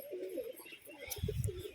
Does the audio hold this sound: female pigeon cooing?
yes